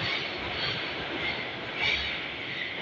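A Saint Petersburg metro train runs through the underground near Petrogradskaya station, making a continuous hissing rush of wheels and air at a moderate level with no pauses and no voices.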